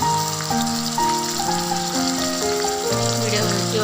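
Curry leaves dropped into hot oil for a Telangana-style masala egg fry hiss and crackle in a steady sizzle, partly masked by background music.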